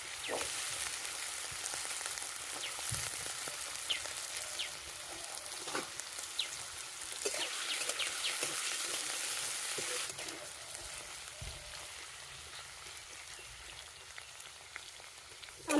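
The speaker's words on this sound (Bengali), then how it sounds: "তেল গরম হয়ে গেছে, আলুগুলো ভেজে নিই।" Potatoes frying in hot mustard oil in a kadai, a steady soft sizzle and crackle with occasional stirring clinks, close and continuous.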